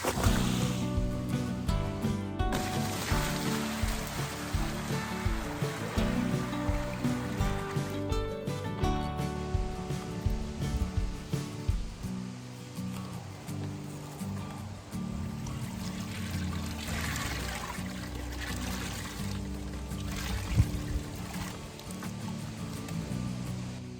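Water runs and splashes steadily while soap is rinsed out of wool, a continuous rushing, gurgling wash with rhythmic sloshing pulses, close and moderately loud.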